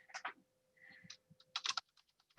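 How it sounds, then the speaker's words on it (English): Quick, close keystrokes on a computer keyboard come in irregular bursts, with a flurry of rapid clicks near the end, quiet and unaccompanied by talk. "I'm typing"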